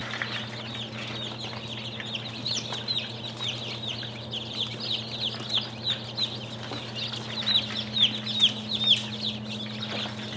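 Bresse chicks in a shipping box, a busy stream of soft high peeps and clucks with an even low hum beneath, fairly quiet and without talk.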